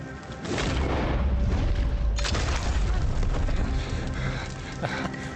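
A single loud rifle headshot in Red Dead Redemption 2 opens a sustained booming burst, followed by a second sharp impact near the end, with no talk over it.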